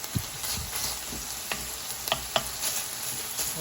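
Meat for a shotgun shells appetizer fries in a pan, a steady close sizzle broken by scattered pops and the scrape of stirring.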